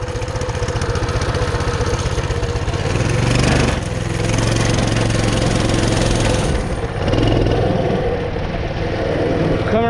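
A Coleman CT200U-EX mini bike's small engine runs with the choke on, a steady loud buzzing idle that briefly surges and dips around the middle before settling back to an even drone.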